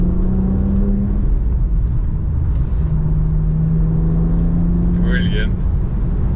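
BMW 1M driving on a country road in Germany, a steady engine drone with a sustained low tone, close and fairly loud, with a brief higher whine near the end.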